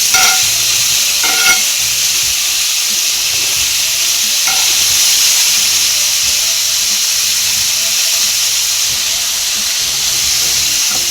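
Beef sirloin taco meat sizzles loudly in a hot, smoking pan, giving a dense, continuous hiss of frying fat that holds close and strong throughout, with a few faint knocks and no talking.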